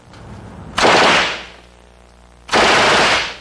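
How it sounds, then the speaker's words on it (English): Two loud, close bursts of rapid automatic gunfire from gun enthusiasts shooting rounds at a Houston range, each volley rattling for under a second before trailing off, separated by a brief lull, with no voices. "the so-called Cabbage Patch Commandos were out squeezing off hundreds of rounds over lunch hour today"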